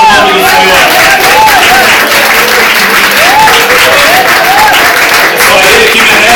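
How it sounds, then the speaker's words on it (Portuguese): Sustained applause from a large church congregation, loud and continuous throughout, with crowd voices mixed into the clapping. "Quem crê nisso, dê uma salva de palmas no nome do Senhor."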